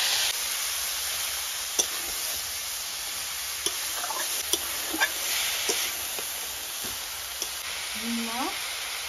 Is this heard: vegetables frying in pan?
yes